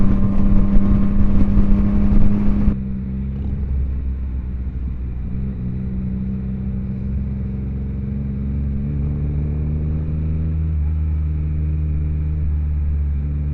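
A loud, deep three-cylinder 2023 Yamaha XSR900 motorcycle engine roars at first, then settles into a steady, throbbing drone as the bike cruises along without pause.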